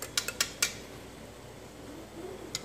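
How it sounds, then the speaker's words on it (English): A spoon stirs milk heating in a pot for homemade yogurt, with a quick cluster of light metallic clinks against the pot at the start, then a soft bubbling hiss and one more clink near the end. "So I'm just going to keep stirring it."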